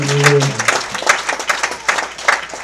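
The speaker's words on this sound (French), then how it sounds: "Est-ce qu'on peut applaudir encore une fois?" A church congregation claps in steady, rhythmic unison, the beats loud and close, with a brief held tone at the start.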